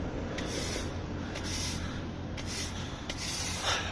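Dirt and rust are brushed off the sill of a Jaguar X-Type, a steady close scratchy sweeping with rhythmic strokes roughly every second, no talking.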